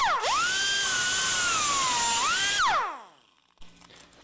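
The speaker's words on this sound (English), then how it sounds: "I use this a lot for cutting tack welds" Handheld power cutting tool used for cutting tack welds, spinning up to a loud high whine that holds steady for a few seconds, then winds down and stops.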